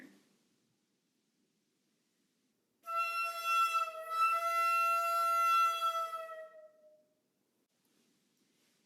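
A flute imitates a train whistle, sounding one sustained, bright, wavering tone of about four seconds that swells, briefly dips, then fades, with near-silence before and after.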